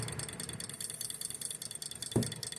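A Stirling engine fitted with an added valve to control its RPM runs slowly near stalling, giving a faint, steady mechanical chugging with a soft periodic pulse and one brief thump near the end.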